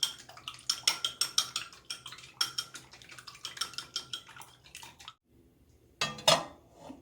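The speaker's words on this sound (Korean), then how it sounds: "소금은 젓가락에 약간만 묻혀서 이렇게 저어주세요." Eggs stirred with chopsticks in a bowl, a quick series of light clinking, tapping strokes against the bowl for about five seconds, a brief pause, then one louder clatter near the end.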